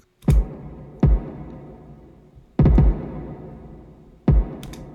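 A few punchy kick drum hits with a low, boomy body and sharp attack, irregularly spaced, each ringing out briefly before the next.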